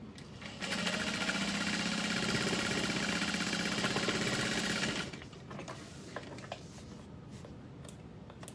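A sewing machine runs steadily for about four seconds, stitching a rolled hem along the top edge of fabric, then stops, leaving quiet handling noises.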